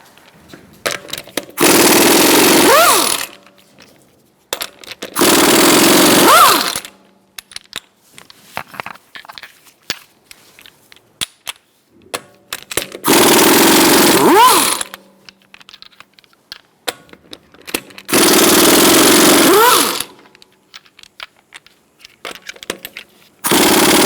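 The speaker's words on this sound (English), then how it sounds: "Using a 19mm socket, we're going to remove our wheel." Power tool removing wheel nuts with a 19mm socket on a 2012–2018 Ford Focus, four loud bursts of rapid impact rattling, each about a second and a half long, separated by quieter handling clicks.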